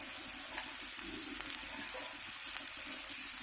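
Marinated chicken pieces threaded on sticks sizzle and crackle steadily on a hot tawa over a low gas flame, a close, continuous frying hiss with no one speaking.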